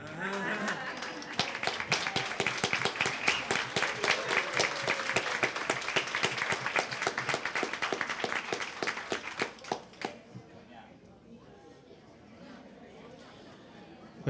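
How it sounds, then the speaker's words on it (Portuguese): Delegation and audience at a Brazilian social-assistance conference standing to applaud during a plaque presentation, loud sustained clapping with chatter that stops abruptly, leaving quiet room noise. "em pé para dar os aplausos"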